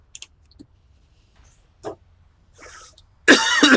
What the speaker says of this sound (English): Sorry to cough in your ear.